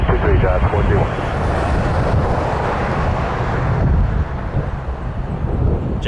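Jazz passenger airplane taking off from runway 23 at Toronto Pearson, a steady, loud broadband engine roar filling the whole clip with wind buffeting the microphone, easing slightly toward the end.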